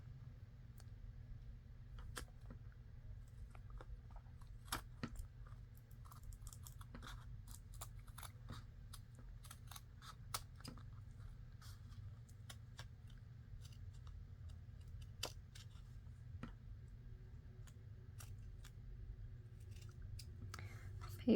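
Scissors snip through thick, wet paper while criss-cross tag pockets are cut for journal cards, giving soft, sparse clicks and crunches spread irregularly over a steady low hum.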